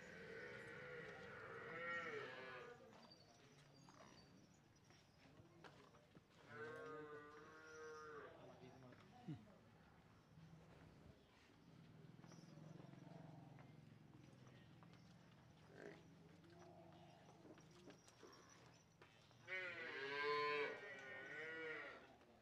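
Murrah buffalo on a farm lowing loudly and close by, with several drawn-out moos that rise and fall, separated by quieter stretches of farmyard background.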